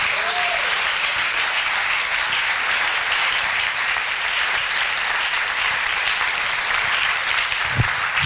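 A large congregation at a Christian congress keeps up loud, sustained applause, an unbroken wash of clapping with no talking over it.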